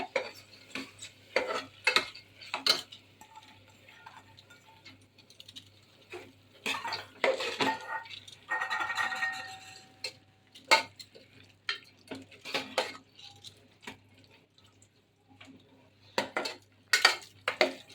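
Soaked whole moong beans are stirred in oil in a pot for kadhi: a spoon scrapes and clatters against the metal in irregular close bursts, with quiet gaps between strokes and no voices.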